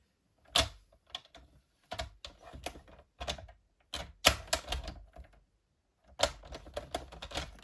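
Surplus paper strip being cut on a scoring board during card making, heard as a series of sharp, close, dry clicks and snaps in irregular bursts separated by silence.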